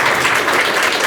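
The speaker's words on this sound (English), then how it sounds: "Round of applause for entrepreneurs in Midland" An audience at an entrepreneur networking event in Midland, Texas applauds loudly and steadily, a dense wash of clapping with no voices on top.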